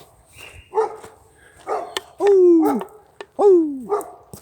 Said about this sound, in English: It's a black and white dog.